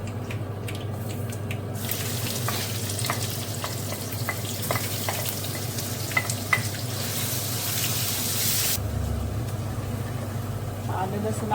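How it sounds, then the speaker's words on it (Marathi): Ginger-garlic paste sizzles and fries steadily in hot oil for chole curry, with scattered spoon stirs and clinks over a constant crackle that swells near the end. "आलं लसणाची पेस्ट टाकते मी"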